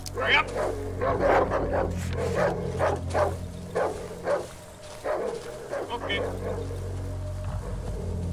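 A dog in the survival horror game Darkwood barks and yips in a series of sharp, irregular bursts close by, while someone talks over and between the barks.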